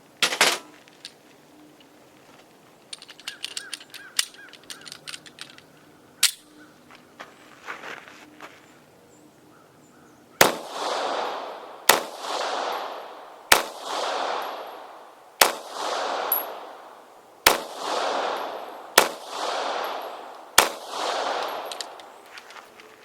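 A modified Taurus PT709 Slim pistol fires single shots at a range. After some quieter handling clicks and knocks come eight sharp, loud reports spaced about a second and a half apart, each followed by a short ringing decay.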